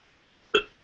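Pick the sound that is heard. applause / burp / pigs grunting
burp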